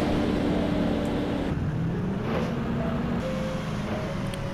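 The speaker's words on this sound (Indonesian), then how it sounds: "Kembali mendengar raungan dari truk umplung ini guys." A dump truck engine in a driving video game mod map drones with a steady, loud roar and a low rumble that holds evenly throughout, no talking over it.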